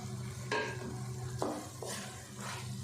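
Yogurt spooned into okra masala in a pan, with soft stirring scrapes and a faint sizzle, a few distinct spoon strokes against the pan at a steady, close, quiet level.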